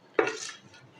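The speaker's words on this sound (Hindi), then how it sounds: "ये मिर्चों का पेस्ट डालने के बाद हम इसको जो है वो थोड़ा मिक्स कर लेंगे" A spoon scrapes and clinks once in a pot as chili paste is stirred into a chicken mixture for tikka pulao, followed by a brief soft shuffle that fades.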